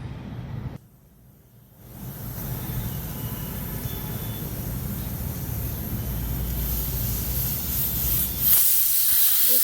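A kitchen pressure cooker holding stuffed eggplant vents steam in a steady, loud hiss that holds for several seconds and swells near the end, with a brief drop early on.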